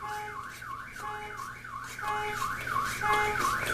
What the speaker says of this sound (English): Just ignore the alarm and just pay attention over here.